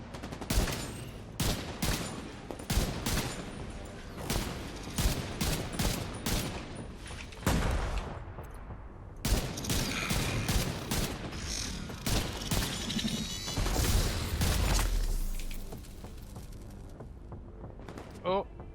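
Rapid, loud bursts of automatic gunfire and scattered single shots crack through a video game firefight in Manhunt, with heavy booming impacts in the middle stretch and someone talking over the action.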